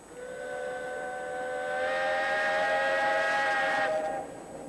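The Lötschberg, a century-old paddle steamer on Lake Brienz, sounds a long, steady steam whistle, loud and close, swelling slightly before cutting off after about four seconds.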